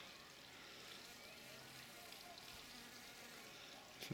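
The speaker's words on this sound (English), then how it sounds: "In fact, there are several honeybees," Several honeybees buzz among masses of blue flowers in a garden in late October, a faint steady hum that continues without pause over light outdoor background noise.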